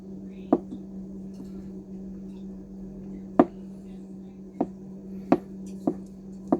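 Hard-boiled eggs chopped with a knife on a cutting board set over a bowl: six or seven sharp, separate knocks spread unevenly over a steady low hum, fairly faint and with no talking.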